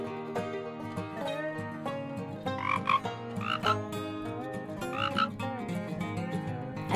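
Frogs croak in a dense, rhythmic chorus of repeated throaty calls, close and loud with no talk over them.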